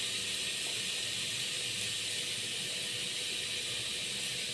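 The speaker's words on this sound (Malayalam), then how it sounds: "ഇതിലേക്ക് നമ്മൾ കാശ്മീരി ചില്ലി പൗഡറാണ് ഇട്ട് കൊടുക്കുന്നത്." Kashmiri chilli powder sizzling in a pan of tomato-based sardine curry, a steady soft hiss that holds evenly throughout with no talk over it.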